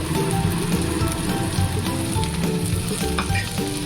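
Continuous crackling sizzle of tomato paste frying in a pan, close and steady, with occasional stirring scrapes and no voices.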